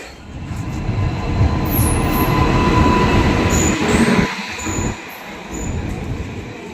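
A train rumbles loudly into crowded Dubrajpur station, wheels squealing in high bursts over the heavy, steady roar of the carriages.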